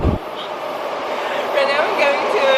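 A local train pulls in at a Tokyo station platform, a steady rumbling roar with rising metallic squeals from the wheels, loud and continuous under a platform announcement.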